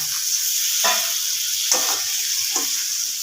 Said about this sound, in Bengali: ভাজা আলু পটলগুলো এর মধ্যে দিয়ে দিলাম